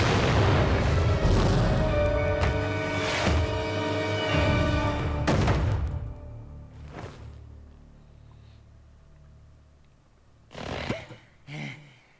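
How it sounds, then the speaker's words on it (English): Video game explosions in Jak II, heavy booms rolling one after another and fading into rumble, then two more sharp blasts near the end. "Tough guys don't look out at explosions when they walk away."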